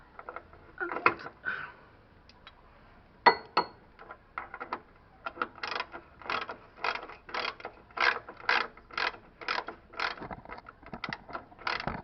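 A ratchet on a 3-inch extension unbolts a steering rack bolt on a 1997 Pathfinder. It gives a close, rapid run of sharp clicks in bursts, first irregular, then settling into an even rhythmic stroke-by-stroke cadence.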